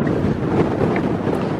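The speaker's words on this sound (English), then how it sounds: "Still very windy, just like when I was at the stadium this morning." Strong wind roars across the microphone outdoors near a construction site in Las Vegas at dusk, a continuous loud, dense rumble with no break.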